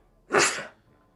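A single sharp sneeze bursts out close by, brief and loud, then fades into quiet.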